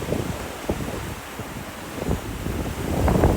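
Wind blows steadily outdoors on a cold day near tall trees, a loud, low rumbling roar buffeting the microphone and swelling toward the end, with no one talking.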